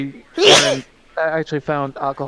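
A person sneezes once, loud and close, a sharp burst of breath amid friends chatting in a VR voice chat; talking voices resume right after.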